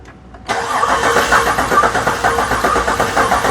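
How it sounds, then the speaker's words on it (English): An engine cranking over on the starter with its valve cover removed during a misfire teardown, a steady rapid rhythmic chug that starts abruptly after a brief quiet moment and continues loud and close without catching. "go ahead, Jay, crank it over"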